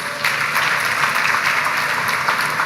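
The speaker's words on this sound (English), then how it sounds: "Can we get another round of applause for her, please?" An orientation audience of new undergraduates applauding a presenter, a full, continuous burst of crowd clapping, fairly loud and even, heard alone without speech.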